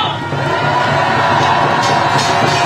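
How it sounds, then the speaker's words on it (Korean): A dense market crowd at a campaign rally in Seomun Market cheers and applauds loudly and continuously, with shouts and whoops rising over a steady roar. "다시 한번 뜨거운 박수와 환호를 외쳐주십시오."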